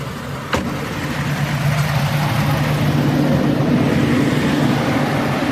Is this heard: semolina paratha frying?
no